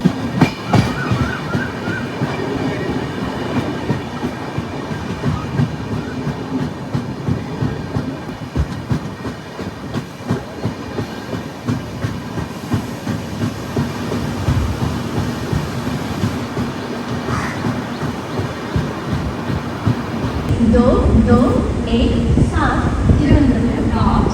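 The Kerala Sampark Kranti Express rolls into platform 1 on its approach to Kayamkulam, a continuous loud rumble with rhythmic wheel clatter that swells and grows harsher in the final seconds.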